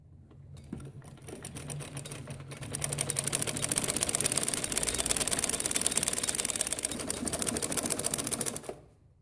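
A sewing machine stitches the waistband belt onto a samosa salwar, running in a fast, steady mechanical chatter that speeds up and holds for several seconds before stopping, loud and close with no talking.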